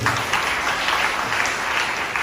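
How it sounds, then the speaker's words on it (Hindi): An audience clapping at a spiritual talk, a steady, loud burst of many hands that fills the room without a break. "ताली बजाओ प्रभु के लिए।"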